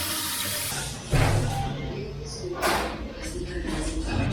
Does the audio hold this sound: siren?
no